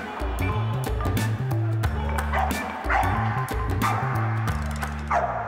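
Dogs bark at an indoor pool jumping competition, with repeated barks standing out against a loud, echoing hall full of mechanical clatter and ongoing background noise.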